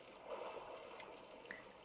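In the video game Stormworks, water floods into a ship with a soft, steady, trickling gush that stays faint and even throughout.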